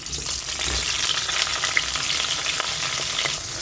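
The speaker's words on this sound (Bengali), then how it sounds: "বেগুনটাকে একটু ভাজা ভাজা করে নেব" Diced eggplant sizzles and crackles steadily in a hot pan, with faint stirring scrapes and no talking.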